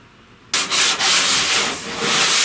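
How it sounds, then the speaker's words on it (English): Hand sanding of body filler along a curved 1969 C10 inner door panel, a loud abrasive scratching that starts abruptly after a short quiet, then continues in a few long strokes. "Noticing this curve, I'm sanding with this curve every time."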